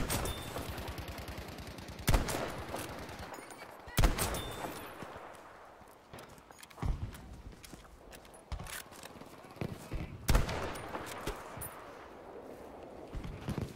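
ZH rifle gunfire in the World War II shooter Battlefield 5, several sharp gunshots and bursts spread over a noisy battlefield, some loud and close, others fainter, with someone talking over them.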